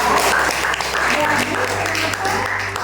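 Students in a classroom clapping, a brief burst of close, loud applause with some voices and background hum mixed in.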